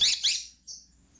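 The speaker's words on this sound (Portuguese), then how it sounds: "estamos falando de Red Ramped, um pássaro muito querido" A pet red-rumped parrot gives two quick high chirps followed by a thinner, fainter squeak, all close and brief.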